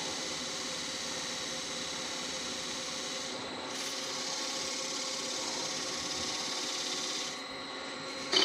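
O B Shine Juice is rubbed onto spinning mulberry wood on a lathe, a soft, continuous hissing friction with a faint motor hum beneath, steady throughout with slight swells in brightness.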